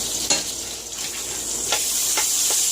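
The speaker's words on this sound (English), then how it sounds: "you're hearing bacon frying right now" Steady crackling sizzle of bacon frying in a pan, with a few sharper pops and spatters over the continuous hiss.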